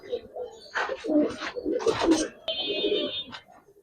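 Giribaz pigeons, kept and sold as pet birds, cooing in soft repeated throaty phrases at close range, with people talking nearby.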